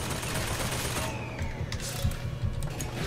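A turret firing in BioShock Infinite sends out a dense, continuous rattle of gunfire, fairly loud, with a few heavier thumps near the end.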